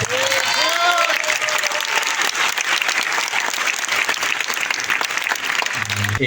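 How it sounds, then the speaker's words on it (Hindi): Loud, dense applause from an audience in honour of PC Sir at an RCM business gathering, sustained for several seconds as a steady wash of clapping, with a voice briefly heard over it at the start. "मैं चाहूंगा एक बार पीसी सर के सम्मान में जोरदार तालियां हो जाए"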